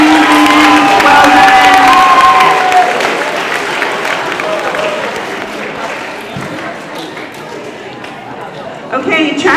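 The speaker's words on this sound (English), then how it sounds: "give them all a round of applause" Applause and cheering from a school crowd at an 8th grade awards ceremony, loud at first and then thinning into scattered clapping and chatter, with a few voices heard over it.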